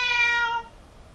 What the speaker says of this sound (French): Et là, c'est le chat qui s'y met.